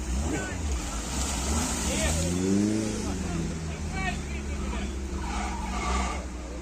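An off-road vehicle's wheels spin in deep mud on an impassable off-road stage near Berezan: a loud, continuous roaring engine whine with rising, skidding pitch sweeps and spattering, while people's voices mix in.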